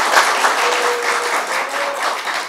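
Sustained applause from a large audience at a Nepali political speech, a dense, even clatter of clapping with no pauses.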